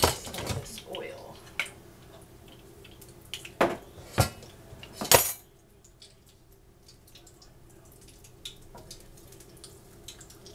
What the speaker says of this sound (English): I am going to dump some of this oil.